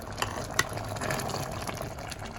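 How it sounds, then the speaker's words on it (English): Stew peas sauce with pigtail and chicken foot simmers in a pot over a medium flame, a steady soft bubbling and sizzling with occasional pops. "we're just going to leave it there to continue to simmer down on medium flame"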